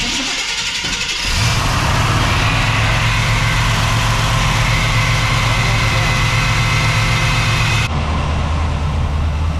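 A car engine cranks and catches, then settles into a steady, loud idle that runs on without a break.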